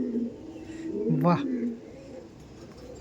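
A pigeon coos close by, a short, low, rolling call among a loft of high-flying pigeons. Someone speaks over it, with soft chirps in the background.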